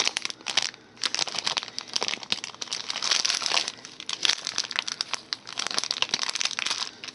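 Plastic packaging of sharp cheddar cheese crinkles and crackles as someone struggles to open it, a dense, continuous close-up rustling with brief pauses.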